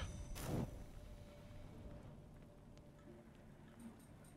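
Faint, steady rainfall patters in the occult card game Book of Hours, with a brief soft whoosh near the start and the quiet rain continuing alone afterward.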